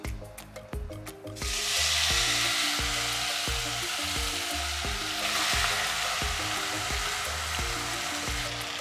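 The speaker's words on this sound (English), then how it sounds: "When I apply this now, you're going to hear that it starts to sizzle." Beef sizzles loudly and steadily in a hot pan, a constant crackling hiss with faint background music and no speech.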